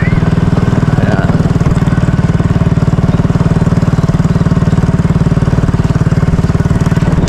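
A motorcycle engine running steadily on a pathway, a loud, continuous low throb with an even rhythm and no pauses throughout.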